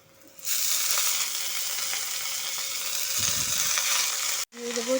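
Loud, steady sizzling of red amaranth greens frying in a hot pan, a dense crackling hiss that fills the clip and briefly cuts out near the end.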